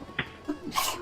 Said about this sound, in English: Gatling gunner sneezes.